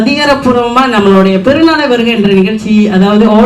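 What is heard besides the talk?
No everyday noises stand out.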